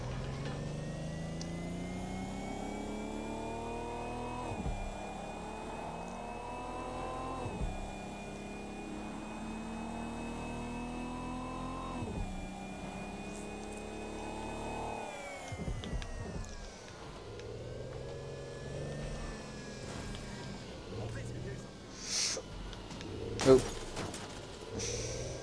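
Car driven in the video game Watch Dogs Legion, its engine repeatedly revving up through gears in rising sweeps with a steady whine, moderate in level under occasional talking and small bumps.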